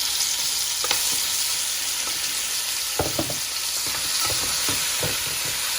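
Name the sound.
mutton pieces frying and being stirred in a pan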